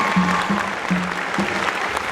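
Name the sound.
concert audience applause for the seniors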